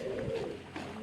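A fancy pigeon coos in a low, soft, throaty murmur, one brief rolling call heard close and faint.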